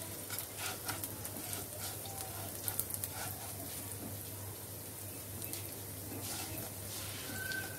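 Food frying in a good amount of mustard oil gives off a steady, soft hiss with scattered light crackles and pops. The sizzle is moderately faint and close, with a low hum beneath it.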